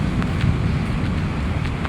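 Outdoor rain and wind make a dense, constant rushing roar with gusty buffeting close to the microphone throughout, and no one is speaking.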